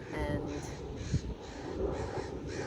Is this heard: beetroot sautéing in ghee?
no